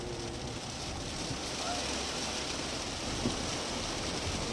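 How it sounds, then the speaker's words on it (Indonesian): Heavy rain pours in a steady, dense roar around Takengon and Bener Meriah in Aceh, with no clear thunder standing out from the constant wash. "Sudah mulai hujan deras"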